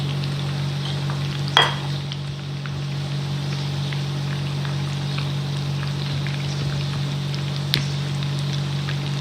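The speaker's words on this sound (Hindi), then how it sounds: "इसको लाइट गोल्डन फ्राई करें धीमी आंच पे।" Breadcrumb-coated cheese chicken nuggets, first dipped in egg, fry in oil over a low flame with a steady soft sizzle and a faint low hum beneath it. One or two brief clinks sound near the start and toward the end.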